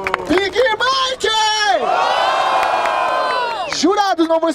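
A crowd at a rap battle semifinal in Barueri, São Paulo, roars and shouts in a sustained wave of cheering, with whoops and a host's amplified voice before and after.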